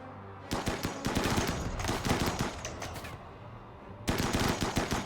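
Rapid bursts of automatic gunfire crackle loudly and almost continuously in RimWorld, pausing briefly near the end before another sustained volley erupts.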